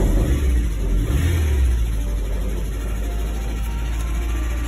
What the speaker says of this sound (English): It's running, it's just running very rough.